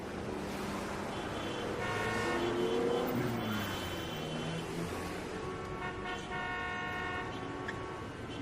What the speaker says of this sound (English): He got into his car and backed out of number 4's drive.